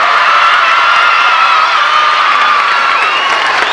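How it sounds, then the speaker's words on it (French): A large audience of adults and children at a works Christmas show applauds and cheers loudly and steadily, a dense unbroken wash of clapping and shouts close by. "Vous applaudissez très fort"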